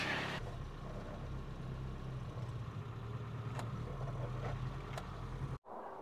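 A Toyota Hilux engine runs steadily at a low idle-like rumble after a manual transmission swap, constant and close, inside a garage, cutting out abruptly near the end.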